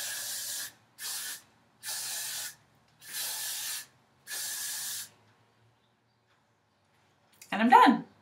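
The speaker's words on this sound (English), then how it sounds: "and I just spray it." Hairspray is sprayed onto short hair in five close, even hissing bursts separated by short pauses, followed by silence and then a brief, louder rustling sound.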